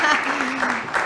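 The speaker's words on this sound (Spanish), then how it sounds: "Un aplauso a Victoria, por favor" Audience applause at a panel session on public and private participation in construction, a dense steady clapping that carries on under someone speaking over it.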